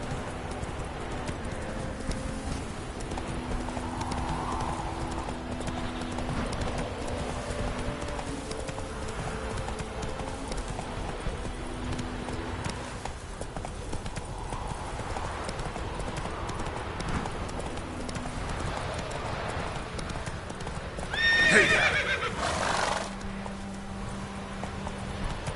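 Roach the horse in The Witcher 3 galloping, with steady clip-clop hoofbeats over a long stretch and a brief neigh near the end, mixed with soft game music.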